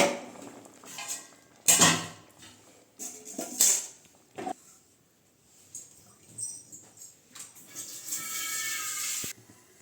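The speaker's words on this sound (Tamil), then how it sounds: "இந்த சாம்பாரை வந்து வேறு ஒரு குண்டாவுக்கு மாற்றிக்கலாம்" Metal pots and utensils clinking and scraping in bursts as sambar is transferred into another pot, with quiet pauses between, close by and moderately loud.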